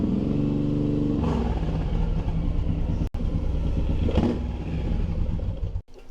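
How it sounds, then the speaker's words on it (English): Suzuki M109R motorcycle engine revs loudly up close with a deep throbbing exhaust, the throttle snapping shut twice and the note dropping sharply before climbing again. "There is something cool about shutting off the throttle as it's revved up."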